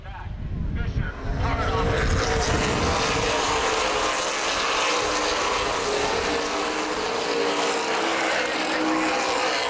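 Race cars in a CRA Super Series asphalt event on the oval at Baer Field Speedway roar continuously in a dense, loud engine wash, with a sustained pack drone.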